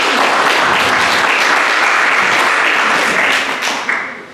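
Loud audience clapping at a 2022 candidate forum hosted by a chamber of commerce and historical society, a dense burst of many hands that holds steady, then thins and fades near the end.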